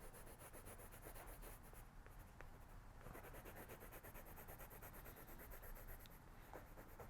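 A colored pencil rubs across paper in steady, faint scratchy strokes, a continuous close shading sound with brief pauses and no talk.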